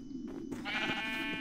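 A Minecraft sheep gives a single drawn-out bleat in the video game, close and fairly clear, with no voices over it.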